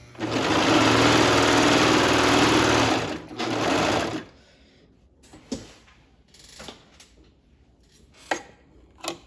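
A serger overlocker stitches along a fabric edge in a loud, rapid mechanical run of about four seconds, with a brief pause, then falls quiet to scattered clicks and handling knocks.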